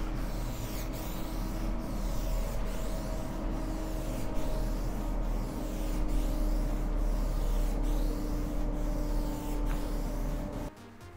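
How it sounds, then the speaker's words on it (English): Waterproofing spray hisses steadily onto a convertible's fabric soft top, a continuous close aerosol rush with faint rubbing texture, broken by short regular pulses, and cutting off abruptly near the end. "waterproofing spray."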